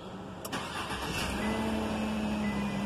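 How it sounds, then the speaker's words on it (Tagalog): A 2018 Chevrolet Silverado with a knock sensor circuit fault starts up: a brief cranking burst, then the engine catches and settles into a steady idle hum. "Start natin yung makina."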